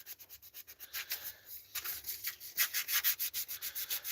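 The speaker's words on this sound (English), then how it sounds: "So now I'm literally just 1200 grit sandpaper, wet and dry, cleaning off the old gasket residue." Wet and dry 1200 grit sandpaper rubbing old gasket residue off a Zenoah 32cc engine part during a rebuild, a close, rapid back-and-forth scratching rhythm of short strokes, steady and alone.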